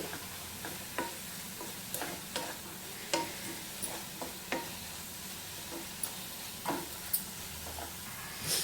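Onions cook with salt and turmeric in a pan for pulusu with a soft, low sizzle and occasional spoon scrapes and taps.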